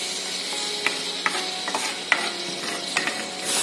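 Chili and shallot spice paste sautéing in a pan gives a soft steady sizzle with occasional scraping clicks from a spatula, fairly quiet and close, with no voices.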